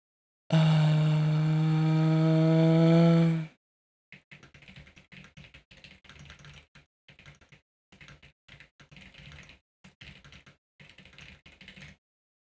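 A loud buzzing drone sounds first, then rapid clattering keystrokes come in short bursts separated by brief pauses, close and crisp.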